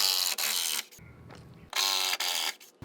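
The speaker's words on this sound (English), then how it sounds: "I need to make sure to remove the screws I have on this side." A power driver backs screws out of a wooden fence gate in two long whirring bursts separated by a brief lower-pitched stretch of ratcheting, close up with no talking.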